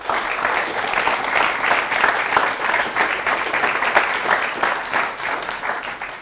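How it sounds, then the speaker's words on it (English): A conference audience at CiviCon London 2015 breaks into a steady, dense round of clapping that fills the room at an even level from start to finish, with no talk over it. "I'd like to have a big round of applause for our sponsors, Circle Interactive, CompuCorp, NFP Services, and Veda Consulting"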